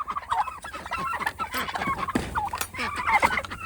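Turkeys and ducks call from inside a winter pen, a dense overlapping chorus of clucks and gobbling squawks, close and fairly loud throughout, with no talking.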